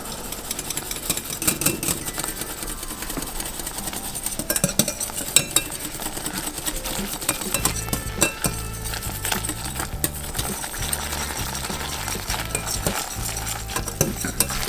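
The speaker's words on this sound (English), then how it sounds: "So we're gonna slowly whisk this. So let me grab a whisk." Flour is slowly whisked into a roux for pot pie, producing busy metallic clinks and scrapes against the pot over a light sizzle that continues without a break.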